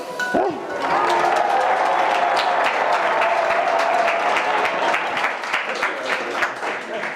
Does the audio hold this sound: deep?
no